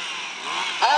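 A chainsaw engine revs up at a wood carving festival, a steady mechanical whine that rises in pitch toward the end of a single brief burst.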